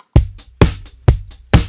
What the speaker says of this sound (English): Okay, then there's some snare.